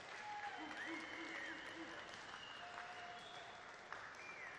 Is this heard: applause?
yes